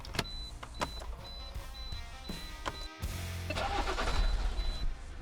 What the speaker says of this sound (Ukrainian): Запустилась півтичка машинка.